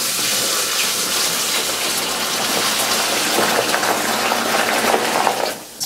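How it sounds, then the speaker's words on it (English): Warm tap water gushes steadily onto dried iron oxide in a vessel, making a loud, continuous hissing splash that rushes on for several seconds before cutting off abruptly. "So we'll just add a lot of warm tap water."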